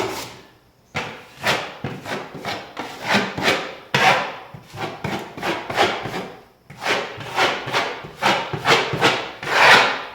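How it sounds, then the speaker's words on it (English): Drywall knife blade scraping joint compound across tape during a sheetrock repair: a steady run of gritty, close scraping strokes, each a short rasp with brief pauses between, fairly loud and with no voice over them. "Come back with the blade and just pull down across the tape sort of the middle to get excess mud out from underneath it."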